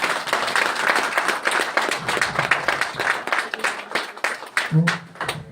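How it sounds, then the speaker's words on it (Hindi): Audience at a health product seminar in Shimla claps loudly together, a sustained burst of many hands with distinct sharp claps, ending as a voice speaks. "जोरदार ताली एक बार"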